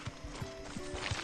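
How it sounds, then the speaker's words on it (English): Horse hooves clip-clopping in the video game Far Cry 6, a short run of evenly spaced soft hoofbeats close by, with no talk. "Ooh, horse."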